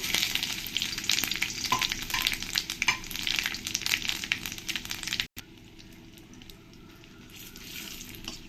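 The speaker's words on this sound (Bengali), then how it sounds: "তেলটা ভালো করে গরম হয়ে গেছে এবার আমি এর মধ্যে দিয়ে দেব শুকনো লঙ্কা তেজপাতা আর জিরে" Dried red chili, bay leaf and cumin crackle and sizzle hard in hot mustard oil, a dense, loud fry that drops abruptly to a quieter, steady simmering hiss partway through.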